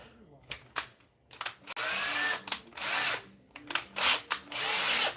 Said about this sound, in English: I can go in here and drill a hole for the magnet